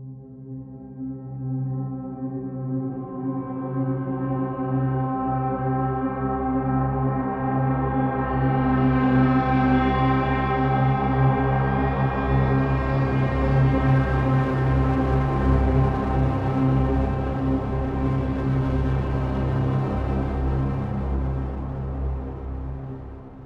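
The Psycho Patient tension pad patch from a virtual instrument for film and TV scoring: a dark, sustained droning pad that slowly swells brighter and denser, hangs for a while, then eases back, playing alone throughout.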